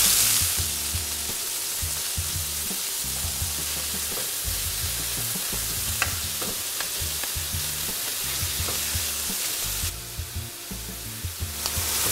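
Venison burgers frying in a hot pan, a loud, steady sizzle with crackling pops throughout, briefly intensifying near the end.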